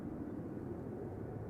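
Jet airliner engines at Amsterdam Schiphol Airport, a steady distant roar and rumble, faint and continuous with no other sounds.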